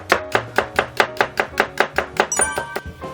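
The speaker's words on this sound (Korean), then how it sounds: "당근을 채를 썰어서 준비를 해줄게요" Knife chopping carrots into fine julienne strips on a board, a steady run of about a dozen crisp, evenly spaced chops, close and clear with no talking.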